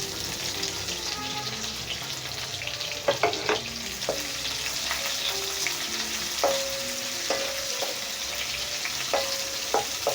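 Medium onion frying with cumin seeds in a pan for a zucchini sabzi, a steady close sizzle broken by spoon scrapes and taps against the pan.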